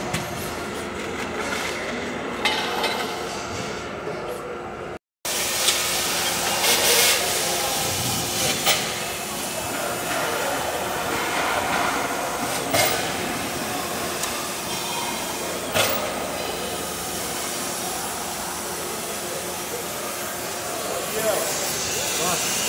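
The motor of a DZ Vantaggio Jetflex 2000 industrial dryer runs with a steady whirring hiss and a constant low hum. It cuts out briefly near the start, then keeps going while people talk over it.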